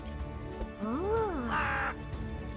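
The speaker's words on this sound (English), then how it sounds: "they put a secret crow over here" A crow caws once in the video game Togges, a single loud, harsh rising-and-falling call followed by a brief burst of noisy rasp, set against a steady game background.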